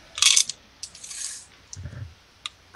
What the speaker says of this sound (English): I hear all sorts of dice.